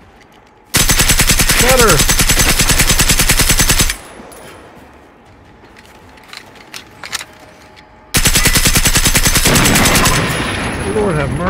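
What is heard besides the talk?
gunfire in Generation Zero video game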